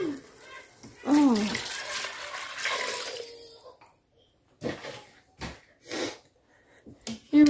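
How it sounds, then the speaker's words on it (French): Water pours from a container over browning meat in a Cookeo electric pressure cooker, a splashing gush lasting a few seconds, followed by quieter clatters and brief handling noises. "j'ai recouvert avec l'eau"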